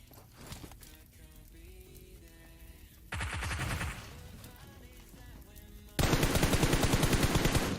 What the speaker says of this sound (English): They are under heavy fire now.